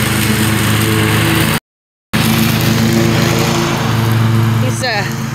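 A lawn mower mulches fallen autumn leaves on a residential yard at the end of the mowing season, its steady mid-pitched engine drone continuous and close, with a person talking over it.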